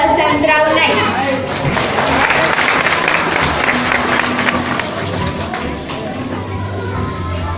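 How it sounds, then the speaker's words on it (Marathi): A crowd at a Banjara Teej festival event applauds loudly and continuously for a performer, a dense wash of clapping with voices and chatter mixed in throughout. "शीतल चव्हाणसाठी जोरदार टाळ्या वाजवा"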